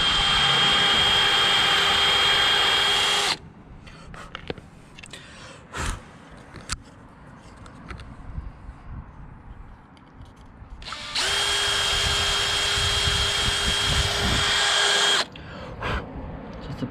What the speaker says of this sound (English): it'll give some support to when we're drilling the circle through